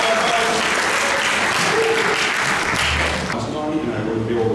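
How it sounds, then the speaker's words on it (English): A group applauds during a Sleepy Hollow and Salem trip gathering, a steady round of clapping with background chatter and a voice speaking toward the end as it thins out. "Good round of applause."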